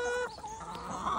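Pet chickens cluck and murmur close by while pecking at strawberries, a short burst of soft fowl calls with no talk.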